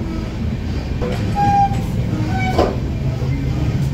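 A Konkan Railway train with an LHB 3AC coach runs along the track, a steady close rumble with wheel clatter and a few brief squeals, faint talk in the background.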